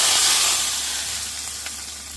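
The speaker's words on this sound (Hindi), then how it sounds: "घी गर्म हो गया है, मैंने इसमें सरसों डाली है और डाल रही हूँ थोड़ी सी हींग और 1 कश्मीरी लाल मिर्ची।" Ghee tadka with mustard seeds, asafoetida and a Kashmiri red chilli sizzles in a pan, a steady close hiss that slowly fades over a couple of seconds, with no talking.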